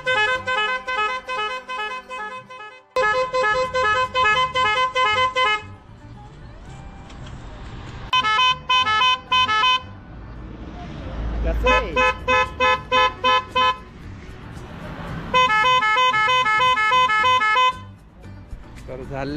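A newly fitted horn on a pickup truck honks in loud, close, multi-toned bursts: a long blast, then several sustained blasts with short pulsing toots between, while voices murmur in the background.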